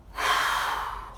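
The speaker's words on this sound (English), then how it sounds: "Exhale, blow the breath out." A single forceful exhale during a yoga breathing exercise: a loud, close, breathy rush of air blown out through the mouth, lasting about a second and slowly fading, with no talking.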